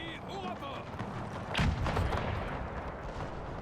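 Musket volleys and distant artillery booms crackle across a Napoleonic battlefield in the Era Mod of Napoleon Total War, a dense rumbling fusillade with one sharper burst standing out amid steady background battle noise.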